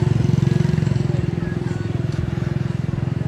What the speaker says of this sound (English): And these funny tuk-tuks